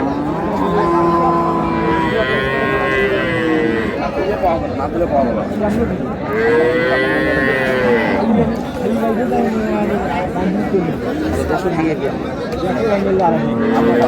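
Dairy cows and calves of improved, light Jersey-cross breeding low now and then at the Raniganj cattle market in Dinajpur, under steady crowd chatter and bargaining voices.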